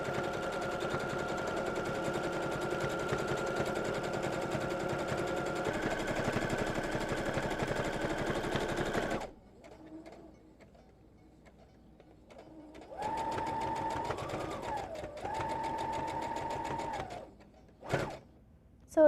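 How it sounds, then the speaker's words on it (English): A sewing machine stitches the side seam of a shirt in a loud continuous whirring run that shifts pitch midway, stops, then resumes in a shorter burst ending with a brief back stitch. "I'm going to sew all the way down the side, but leave about 1 inch open at the end"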